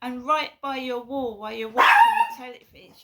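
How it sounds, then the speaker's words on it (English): A neighbour's dog barks repeatedly in short yelping bursts, fairly close, heard alongside a person talking. "That's the neighbour's dog going off."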